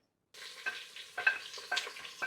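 Whole spices (cinnamon, cloves, cardamom, bay leaf and cumin) hit hot oil, giving a soft crackling sizzle with several sharp pops and spits over about two seconds, close and fairly quiet.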